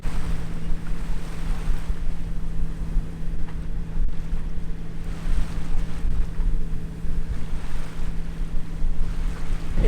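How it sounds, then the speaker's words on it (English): A sailboat motor sailing at sea at about five knots gives a steady low engine drone under rushing water, wave wash and wind buffeting the microphone, continuous and loud, no talking. "I'm still motor sailing along with making about 5 knots and with 17 miles to go"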